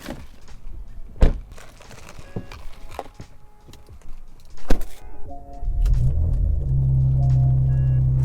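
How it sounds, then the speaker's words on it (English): A few scattered thunks and knocks give way to a deep, steady exhaust rumble from a Porsche Macan SUV with a muffler delete, swelling in and holding loud and low. "All I have is just a muffler delete on this car, and the rumble is so much more intense"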